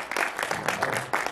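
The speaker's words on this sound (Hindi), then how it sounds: "थोड़ी तालियां बजा दीजिए।" Audience applause at a Hindi comic poetry gathering (hasya kavi sammelan) in Ghaziabad: a dense wash of many hands clapping fills the short moment, with loudness swelling and easing in waves and no one speaking.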